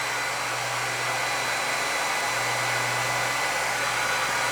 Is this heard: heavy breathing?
no